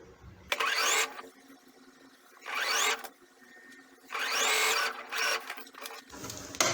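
A sewing machine stitching fabric for a baby elephant pillow, four distinct runs of fast mechanical whirring that rise and fall in speed, with quiet gaps between them.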